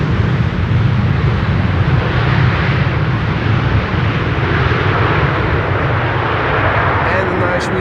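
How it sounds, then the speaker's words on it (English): A Boeing 777-300ER airliner arriving on Schiphol's Buitenveldertbaan runway 27 makes a loud, sustained engine roar with deep rumble, steady throughout and heard up close, while a voice talks over it. "This is a 777-300ER"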